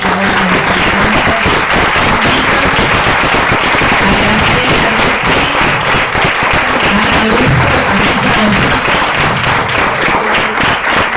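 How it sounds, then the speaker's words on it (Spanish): Sustained audience applause at the close of a Spanish-language quality-of-life conference, dense steady clapping filling the hall throughout, loud and continuous with no talk. "Demos un gran aplauso, por favor."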